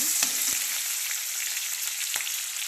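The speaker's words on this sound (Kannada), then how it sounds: "ಆಮೇಲೆ ಕರಿಬೇವು ಹಾಕ್ತೀನಿ, ಆಮೇಲೆ ಬೆಳ್ಳುಳ್ಳಿ ಹಾಕ್ತೀನಿ" Curry leaves and garlic sizzle in hot oil in a pan for dal, a steady close crackling hiss with a few sharper spits and a brief stir, no voices.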